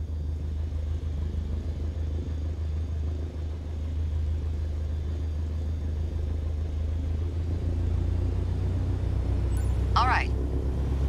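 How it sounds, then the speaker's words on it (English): An aircraft engine in Microsoft Flight Simulator on Xbox Series X throttles up for taxi, a low droning rumble that swells slightly and holds steady, with a brief chirp near the end. "Now, gently increase throttle to get the aircraft moving."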